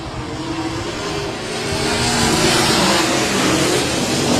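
Sprint race cars at Heart O' Texas Speedway in a Bandit Outlaw Sprint Series race roar past in a loud, continuous engine drone that swells and rises in pitch as the pack accelerates toward the line.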